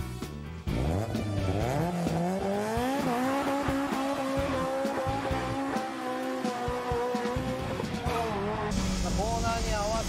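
A car engine revs through heel-and-toe downshifts and sharp gear changes, the pitch climbing and dropping in rapid steps with blips between shifts, loud and close throughout.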